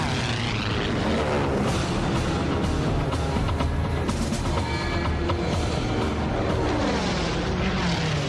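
Many aircraft fly overhead in a dense, continuous roar of engines and propellers, loud and unbroken throughout, with no clear gaps.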